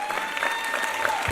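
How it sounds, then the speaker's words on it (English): Steady clapping from a crowd, a dense continuous patter of many hands at an even level with no voices on top. "please give them all a round of applause"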